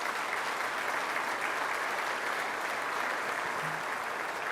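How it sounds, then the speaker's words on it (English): Audience applause at a ribbon cutting ceremony for a wellness center, steady and dense clapping from a sizable crowd that fills the whole stretch without a break. "So let's give a round of applause to our leader, Dr. Dewan."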